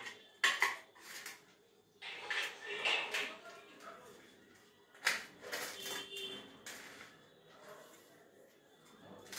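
A slice of homemade pizza being cut on a plate, with bursts of clinking cutlery and scraping against the dish in irregular clusters, close by, under and between a voice speaking.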